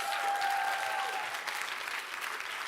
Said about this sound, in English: Let's give a round of applause for all the teams for the great answers here.